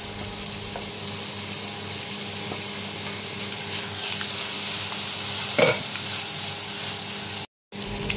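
Onion and garlic sauté in a little oil in a pan, a steady, even sizzle with scattered soft taps and one brief scrape of stirring before a sudden cut to silence.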